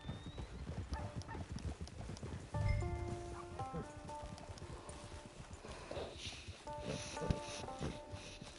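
Horse hooves clip-clopping in the video game Red Dead Redemption 2, a steady walking rhythm close by with a brief whinny, set against ambient game music and environmental sounds.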